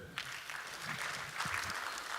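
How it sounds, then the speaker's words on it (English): Faint, distant applause at a national ICT job fair, a thin soft patter of clapping hands heard from afar with a low room hum beneath. "I think let's clap for them"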